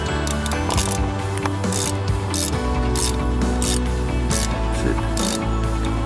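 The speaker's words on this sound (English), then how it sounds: "Once you install all the bolts by hand, you start tightening it down on a circle motion." Ratchet tightening the water pump bolts on a 2005 Ford Mustang GT, a steady run of clicking strokes repeating close up and fairly loud throughout, with no talking.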